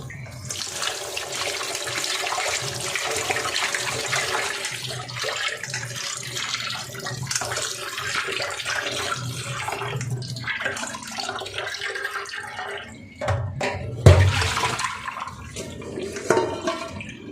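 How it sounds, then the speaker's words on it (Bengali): Water pours and splashes as washed chicken drains in a kitchen strainer, a steady close running-water sound with a few louder knocks and splashes near the end, no voices. "এখন ফাইনালি জল ঝরানোর জন্য স্ট্রেনারের মধ্যে দিয়ে দিচ্ছি।"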